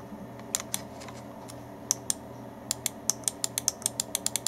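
Side buttons on an ART AM-80 gaming mouse clicked repeatedly, sharp and fairly loud close-up clicks, first scattered then in a quicker run of about a dozen, with no speech.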